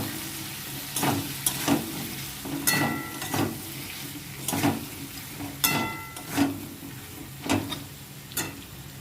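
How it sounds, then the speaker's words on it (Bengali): Sauce stirred into food frying in a pan, a steady sizzle under periodic scraping and clanking strokes of a spoon against the pan, close and without voices. "সসটা দিয়ে ভালো করে নেড়ে ছেড়ে নেব।"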